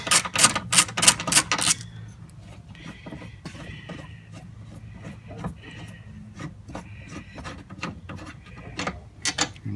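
A hand ratchet with a 13 mm socket works loose a bolt on a car's PCM mounting, giving a rapid burst of close clicking at first, then a run of lighter, scattered ratchet ticks and rubbing scrapes.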